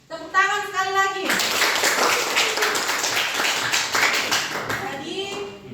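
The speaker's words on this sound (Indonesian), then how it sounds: "Tepuk tangan sekali lagi" A short spoken phrase gives way to a burst of classroom applause as students clap together, sustained and fairly close before fading out as a voice resumes.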